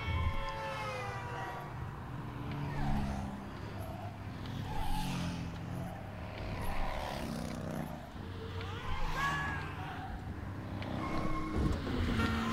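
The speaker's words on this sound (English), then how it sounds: "A lot easier to hear the cars now." Engines roar and whine continuously in the video game Blind Drive, rising and falling as several cars race past, with game music and effects layered throughout.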